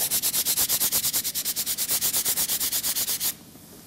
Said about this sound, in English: take a piece of relatively fine sandpaper with your hand, come in and just give it a little quick, very light